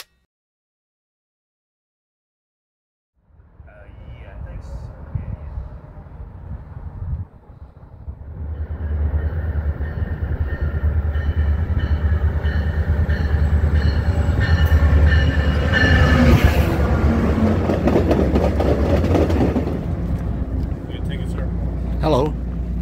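Train rumbling at Rockville station in Maryland: a steady low roar of railcars rolling past, starting after a few seconds of silence and building to a loud, sustained, close rumble with squealing wheel noise.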